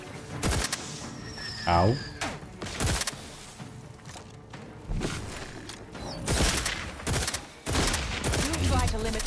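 Gunfire from the video game The Outer Worlds 2: sharp, loud shots in irregular bursts across the clip. A character voice and electronic game sounds are heard between them, along with a brief pained grunt.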